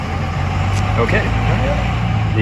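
A hiker on the Pacific Crest Trail vocally imitates a diesel truck, a steady low rumbling growl held for a couple of seconds, close and loud against outdoor background.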